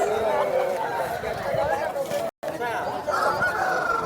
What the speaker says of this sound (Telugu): కోడిపుంజ అయితే చాలా హెల్దీగా యాక్టివ్గా ఉంది